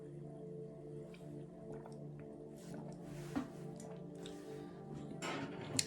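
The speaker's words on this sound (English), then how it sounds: "let me take a sip of water here." Someone sips water from a glass in a quiet room, with soft small liquid drips and swallowing sounds, faint and close, over a steady low background hum.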